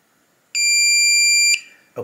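A Kwikset Powerbolt 250 keypad lock sounds a single long, shrill electronic beep for about a second, steady and piercing, then cuts off, followed by a faint click.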